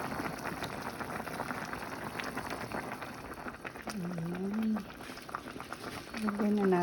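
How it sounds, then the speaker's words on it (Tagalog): Pot of zucchini and vegetables boiling, a soft continuous bubbling and crackle heard faintly under someone talking nearby. "So, kumukulo na."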